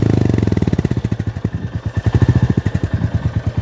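A Royal Enfield Goan Classic 350 motorcycle engine runs close by with a loud, steady single-cylinder thump, its even pulsing beat slowing slightly and holding a deep chugging rhythm throughout.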